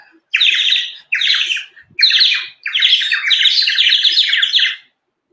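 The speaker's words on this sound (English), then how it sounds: "Munni let out a startled chirp." A sparrow lets out a run of startled chirps, bright and near, coming in three quick bursts with short gaps and no other sound around them.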